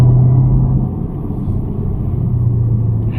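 A 2022 Chevrolet Camaro ZL1 V8 rumbles steadily while driving, heard from inside the car as a loud, deep, continuous drone with slight swells and no talk.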